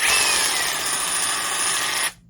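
A Vevor brushless cordless barrel-grip jigsaw runs at a steady high-pitched whine for about two seconds, then stops quickly as its electric brake engages, close and loud with no talking.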